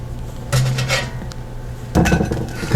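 Plates and cutlery clink while a French toast breakfast is served onto an eating plate, two short bursts of clattering separated by a quieter pause, close by with no talk.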